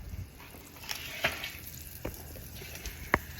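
Butter sizzling in a pan for a cow tongue stew, a faint, soft frying hiss with a few brief pops and clinks, heard close.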